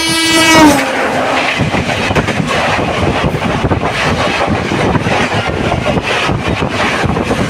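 A train on the rail route from Shirdi to Aurangabad sounds its horn briefly at the start, then rolls past with a loud, steady rumble and rhythmic wheel clatter up close.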